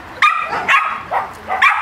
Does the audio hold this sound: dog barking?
yes